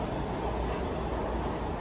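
Metro subway train riding in Washington, D.C., heard from inside the car as a steady, loud broadband rumble of wheels and motors, continuous throughout with no voices.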